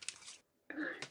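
A single sneeze bursts out close and fairly quiet, split into two quick blasts around a brief pause.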